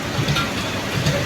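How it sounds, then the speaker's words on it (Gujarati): Rain begins falling outdoors: a soft, even wash of patter and hiss that holds steady and fairly close, with a faint low rumble underneath. "જો અહીંયા વરસાદ શરૂ થઈ ગયો"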